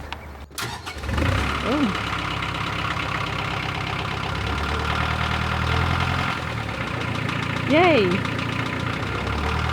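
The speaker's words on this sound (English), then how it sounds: "Now we're going to see its moment of truth if the engine's going to turn on" A narrowboat's diesel engine cranks after a sharp clunk, then catches and settles into a steady, throbbing idle. Voices react with brief excited exclamations, and a short whistle-like squeal rises over the running engine near the end.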